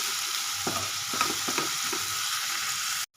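Onions with spices fry in a pan, a steady loud sizzle broken by several scraping stirs, with no talking.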